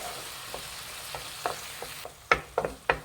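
Onion paste fries over a medium flame in a pan, a low steady sizzle broken by a few sharp scraping clicks of the spoon that grow louder and closer toward the end.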